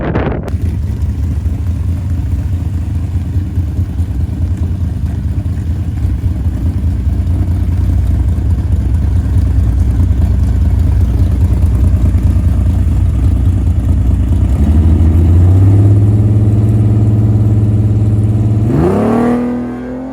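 A V6-powered Chevette drag car idles loud and steady with a deep rumble, then the engine note climbs sharply as it begins accelerating on its first pass, with no voices.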